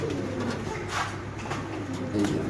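Large Mundian pigeons coo steadily and close by, a low continuous murmur of overlapping calls with no talk over it.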